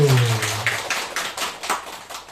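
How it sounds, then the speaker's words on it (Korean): A church congregation claps together in a short burst of applause, several sharp hand claps landing in a loose rhythm close by, alone without talk. "모두가 박수를 칩니다."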